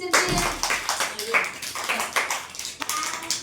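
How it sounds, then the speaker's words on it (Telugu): Children at an Anganwadi program clap their hands together in a quick, steady burst of claps, close and fairly loud, with voices mixed in. "క్లాప్స్ కొట్టండి"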